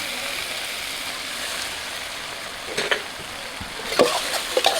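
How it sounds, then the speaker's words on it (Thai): Pork belly stir-fried with aromatics in a dry pan: a steady frying hiss with a few louder scraping, crackling bursts as the spatula stirs toward the end. "ผัดให้แบบว่า เครื่องของเราเนี่ย หอมก่อนนะครับแบบผัดแบบ แห้งๆแบบนี้เนี่ย"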